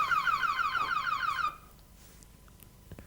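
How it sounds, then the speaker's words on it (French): A Rover 800 MK2 car alarm sounds after a simulated break-in, a loud rapidly warbling electronic wail that cuts off abruptly about halfway, leaving quiet room noise. "Si donc vous simulez une effraction, l'alarme se déclenche"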